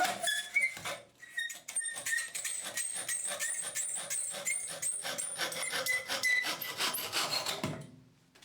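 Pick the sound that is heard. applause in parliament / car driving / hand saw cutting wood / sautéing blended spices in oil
hand saw cutting wood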